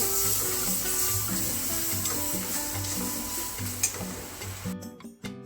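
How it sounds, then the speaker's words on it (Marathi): Chopped mango is stirred into roasted semolina (rava) in a hot pan, with a continuous soft sizzle and stirring scrape under background music, ending in a few sharp clatters. "जो आंबा आपण बारीक कट करून घेतला होता तो टाकायचा याच्यामध्ये आणि हा एकदम असा छान मिक्स करून घ्यायचा"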